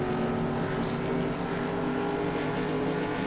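Race car engines at Darlington in the 1996 video game NASCAR Racing 2, a steady, dense droning roar that holds at an even loudness throughout with no talk.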